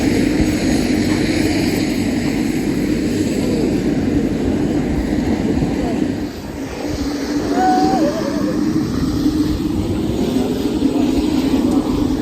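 A Temsco tour helicopter runs on the ground before boarding near Mendenhall Glacier in Juneau, Alaska, its engine and rotors giving a loud, steady droning roar that fills the scene without pause.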